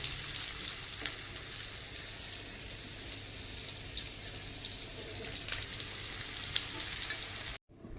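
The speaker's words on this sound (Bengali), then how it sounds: "আলুটা ভেজে নিচ্ছি, ফুলকপিটা ভাজা হয়ে গেছে" Marinated potatoes fry in hot oil with a steady, dense sizzle and crackle that runs close and unbroken, then cuts off abruptly near the end.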